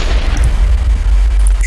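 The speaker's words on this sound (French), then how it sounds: "le coup avec l'explosion au début de la partie" A loud, deep boom from an explosion at the start of a Minecraft Hypixel match, followed by a sustained low rumble that fills the whole stretch.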